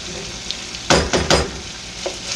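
Onions fry in a skillet with a low steady sizzle, broken by a few loud stirring scrapes and clatters close by, and no one speaks.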